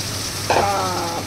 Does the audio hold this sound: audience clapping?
no